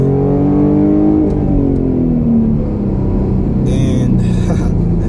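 A V6 Ford Mustang with an MPT tune pulls hard from inside the cabin, its engine rumbling loud and close as the revs climb and gears change, with a brief clatter near the end.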